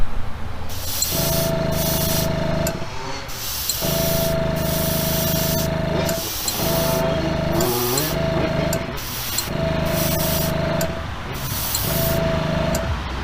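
Spray painting a custom Hot Wheels Bone Shaker: close, loud bursts of aerosol or airbrush spray in a regular on-off rhythm, each hissing pass lasting a couple of seconds with short gaps between.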